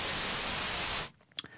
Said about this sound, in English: Things like this, white noise, or pink noise, or brown noise,